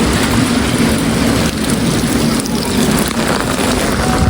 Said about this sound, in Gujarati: વરસાદ આવે છે જોરદાર